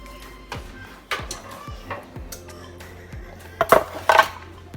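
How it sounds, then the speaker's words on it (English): Raw seasoned pork shoulder for Spanish pernil set into a pan: a few soft thuds and clatters of metal cookware, then two louder, sharper clanks near the end, close by with no talk. "I'm going to go ahead and put this in the pan now"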